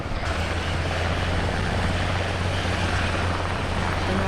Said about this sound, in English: It's a stealth heli.